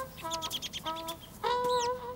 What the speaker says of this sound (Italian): Un uccellino ferito!